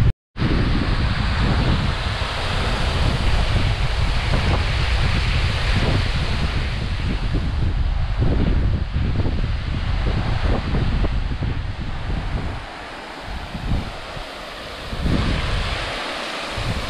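Continuous loud rushing of running water dropping inside Rivelin Tunnel in the Peak District, a dense roaring wash echoing in the enclosed space, steady throughout with a brief dip near the end.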